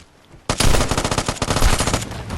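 Rapid automatic gunfire in the shooter game Vigor, a loud, close burst of fast, evenly spaced shots lasting about two seconds after a quiet start.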